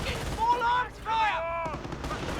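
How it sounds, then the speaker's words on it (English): Machine gun fire in the real-time strategy game Company of Heroes, heard as rapid bursts mixed with tonal in-game voice callouts and battle effects, loud and dense across a short span. "Gunfire."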